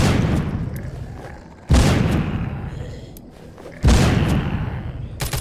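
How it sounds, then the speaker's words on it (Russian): Three heavy booming detonations, the second and third hitting hard and rolling off slowly into a rumbling decay. Explosives set off against zombies in the video game The Walking Zombie 2. "будем использовать взрывчатку"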